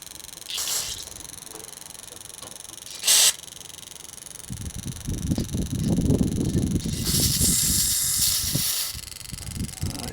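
A Ford F-150 inline-six fuel injector sprays on a test rig in short, sharp hissing bursts, followed by a longer sustained spray over a low background rumble.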